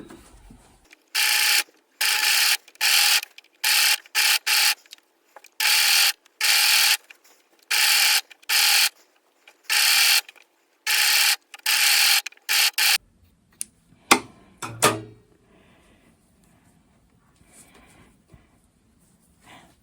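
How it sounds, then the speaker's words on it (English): A serger overlocks a raw fabric edge in about a dozen loud, rhythmic bursts of rapid mechanical chatter with brief gaps between, then stops, leaving faint clicks and quiet handling. "I'm serging that raw edge now."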